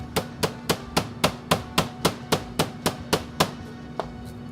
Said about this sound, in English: I will pound it this way and put them inside to a stainless steel bowl.